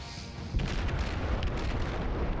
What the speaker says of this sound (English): it looks like one of these torpedoes, that one right there, is going to catch him right in the middle